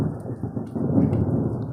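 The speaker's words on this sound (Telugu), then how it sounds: "ఎట్లా ఉరుముతున్నాయో, ఎంతంత పెద్ద ఉరుములో శబ్దం" Loud rolling thunder rumbles low and continuous through a village storm with light rain, swelling toward the middle and holding steady without a break.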